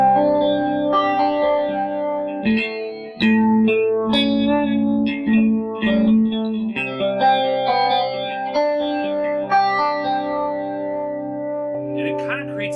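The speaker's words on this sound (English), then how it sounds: "When I play with flangers, I always feel like there's a metallic sound to them" Electric guitar through a VFE Choral Reef flanger pedal with the feedback turned high, sustained notes taking on a hollow, metallic sweeping ring; loud and close.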